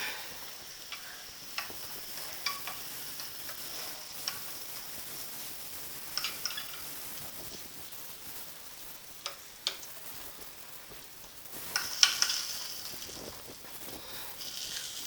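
A hot tempering is poured into a brinjal and curd curry, giving a quiet, crackling sizzle with scattered sharp ticks and pops and a brief louder burst of spitting near the end.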